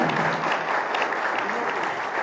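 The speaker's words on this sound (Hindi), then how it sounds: "हम तीनों ने खड़े, दोनों के लिए जोरदार ताली।" A burst of enthusiastic clapping from a congregation at a thanksgiving Mass in a church, dense and continuous, with a voice faintly audible beneath it.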